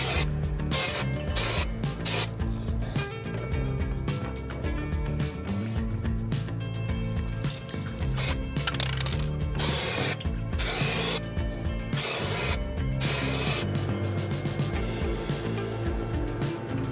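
Spray paint hisses onto Land Rover Discovery 3 wheel centre caps in repeated short bursts of varying length, close and fairly loud, with brief gaps between passes and no talking.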